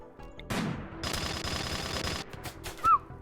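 Gunfire in the video game Rimworld: a rapid burst of automatic shots, then a sharp single shot and a brief whine near the end, loud and clear with no talk.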